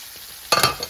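A panko-and-flour-crusted chicken thigh laid into hot oil in a pan, a brief burst of crackling sizzle after a quiet moment, settling into a softer hiss within a second.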